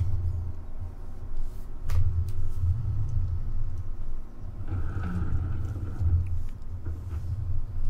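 In Farming Simulator 17, a combine harvester and a trailer give off a low, continuous engine rumble during offloading, with a steady drone and slight swells, heard alone.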